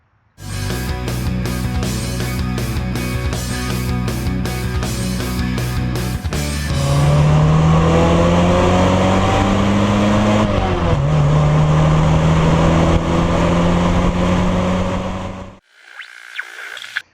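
A 1990 Chevrolet Caprice Classic being driven, its engine note steady at first, then rising and holding through gear changes, loud and close before dropping away near the end.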